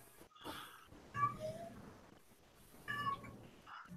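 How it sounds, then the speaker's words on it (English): A pet cat whines and meows in a few separate bursts, fairly close, with quiet gaps between and no speech over it. "No, that's my cat whining."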